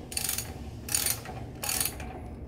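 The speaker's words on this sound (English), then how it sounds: "What we're doing, the ratchet is turning the shell cutter, the sleeve is turning it into the pipe." A ratchet turning the shell cutter of a Wheeler-Rex hot tap kit into a pipe gives three short, close clicking bursts at an even pace, with no talking.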